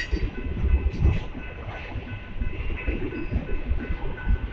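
A northbound Union Pacific mixed freight train rolls past at Oltorf Street in Austin, Texas, with a close, continuous rumble, rattling cars and clacking wheels.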